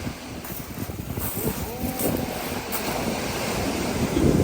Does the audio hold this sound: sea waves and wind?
yes